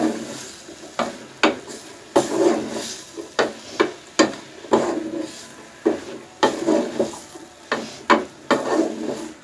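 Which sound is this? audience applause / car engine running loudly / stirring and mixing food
stirring and mixing food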